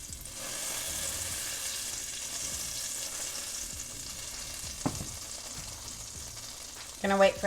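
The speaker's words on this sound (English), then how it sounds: "add 2 tablespoons of extra virgin olive oil to your pan, and a single tablespoon of butter" Extra virgin olive oil and butter heating and sizzling in a pan for pork Marsala, a steady close hiss of frying with a few light clanks near the end and no voices.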